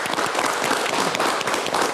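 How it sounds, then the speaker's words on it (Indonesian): Continuous studio audience applause at an Indonesian televised debate, dense and steady throughout. "Kita berikan tepuk tangan dulu"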